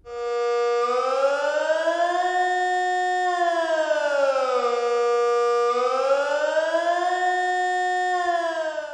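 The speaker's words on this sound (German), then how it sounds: "Der allgemeine Alarm ist ein regelmäßiges Auf- und Absteigen von einem Heulton, der eine Minute lang andauert." A civil defense siren sounds the general alarm in a test, one steady loud wail that rises and falls in long, even sweeps, clear and alone with no voices.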